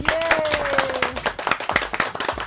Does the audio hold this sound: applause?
yes